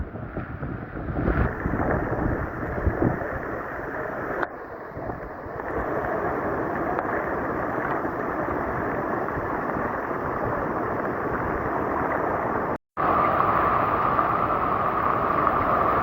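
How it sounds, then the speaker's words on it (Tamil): Heavy rain and strong wind pound Point Pedro beach on the Jaffna coast. They make a loud, continuous hiss and roar with buffeting gusts and a brief dropout near the end, and no voices are heard. "சரியான மாதிரிக்கு மழை பெய்யுது."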